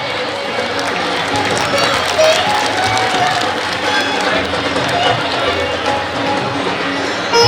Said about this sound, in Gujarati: આપણે સૌ તાળીઓથી વધાવીશું.